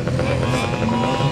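Honda CBR250RR motorcycle engine at a moto gymkhana event, a loud, steady, close buzzing drone with a slight rev surge midway, brief and continuous.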